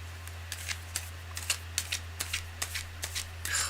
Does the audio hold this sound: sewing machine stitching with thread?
no